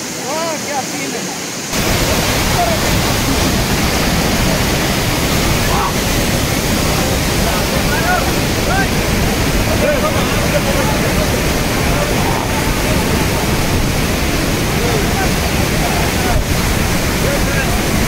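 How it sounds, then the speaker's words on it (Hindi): A powerful waterfall at a tourist spot in Munnar roars as a loud, steady broadband rush of falling water throughout, starting after a brief quieter moment, with people bathing nearby. "पीछे कितना जबरदस्त वाटरफॉल है, और ये पानी जा रहा है"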